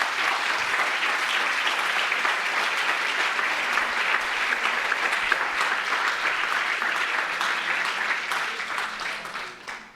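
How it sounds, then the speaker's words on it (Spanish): Sustained audience applause at a talk on wounds, forgiveness and love, dense and even for about ten seconds before fading out at the end. "De nuevo, pedimos un aplauso por ellas."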